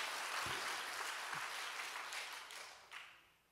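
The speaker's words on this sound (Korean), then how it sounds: "그랬더니 박수로 영광, 주님께 영광." A faint, distant crowd applauds at a prayer meeting, a broad wash of clapping that fades gradually with no voices on top.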